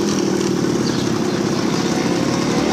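The small engine of a Yamaha V50 Mate moped runs on without pause up close, a buzzing, steady drone with a rough low rattle. There is no speech.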